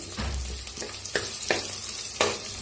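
Whole spices and cumin roast in hot oil in a pressure cooker for masale bhat, giving a steady close sizzle broken by several sharp stirring clicks and scrapes, with no voices.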